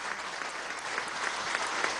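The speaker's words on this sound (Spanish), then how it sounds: "pido para él un aplauso de reconocimiento, de respaldo, de apoyo" An audience applauds at the installation ceremony of a truth, justice and reparation commission, a dense, even wash of clapping that continues steadily throughout.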